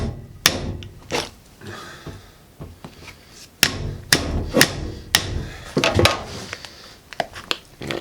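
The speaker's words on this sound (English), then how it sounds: "I'm just going to take this hatchet here and just give it a couple good whacks there." Several loud, sharp hatchet whacks chop through a deer skull, struck in irregular bursts of one to three blows with short pauses between, close and alone without talk.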